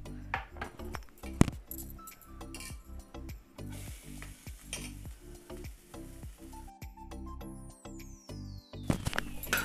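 Grated coconut and coriander roast in a pan with no turmeric added, a steady soft sizzle broken by repeated scraping and stirring strokes of a spatula against the metal, close and clear.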